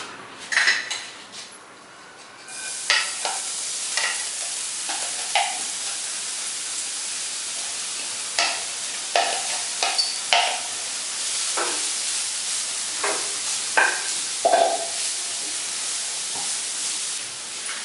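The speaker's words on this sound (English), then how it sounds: "Now I'll shallow fry my grated broccoli into it for around 2 minutes." Grated broccoli shallow frying in a pan for a cheese-stuffed broccoli kofta, giving a steady hissing sizzle throughout with repeated clinks and scrapes of a utensil against the pan.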